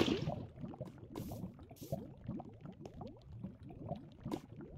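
Lava and water placed in Minecraft give soft bubbling, liquid gurgles and faint fizzy pops at low volume, with a couple of brief hissing bursts mixed into the continuous burble.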